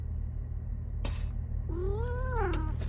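A cat gives a long, drawn-out caterwauling meow near the end, rising and falling, after a brief sharp burst of noise; a low steady hum runs underneath.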